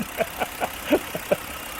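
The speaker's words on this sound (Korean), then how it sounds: "벌써 엔진 소리가 엄청 부드러워요." A Rexton W SUV engine idles smoothly and quietly, with a soft, regular pulse repeating several times a second.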